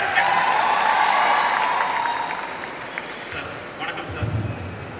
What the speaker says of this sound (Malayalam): ഒരു ക്ലാപ്പ് കൂടി കൊടുക്കുക.